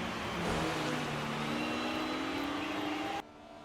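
Vintage 1956 British Grand Prix race cars, Fangio overtaking Brooks, roar past in a loud, steady engine drone that holds strong and then cuts off abruptly near the end.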